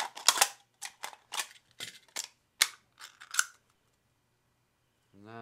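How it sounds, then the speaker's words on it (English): Scissors snipping through aluminum pop cans while making an alcohol stove: about eight sharp, crisp cuts in an irregular run, close and loud, followed by a pause and a brief scrape at the end. "we want our scissors. And we're going to cut along these lines."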